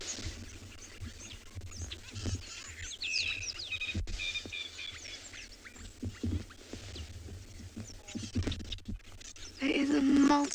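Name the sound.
many birds calling on a morning safari in South Africa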